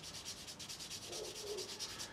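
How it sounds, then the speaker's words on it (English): Close, steady rasping strokes of a light sanding sponge rubbing a plastic part from a Tamiya 1/6 Yamaha YZ250 motocrosser model kit, a quick back-and-forth rhythm smoothing cut edges, with no talking. "just a light sanding sponge, and then we'll give it a go over with a polishing stick, just to smooth those edges"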